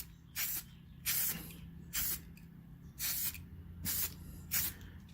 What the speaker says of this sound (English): use the upper line of the spray or the actual stream of the spray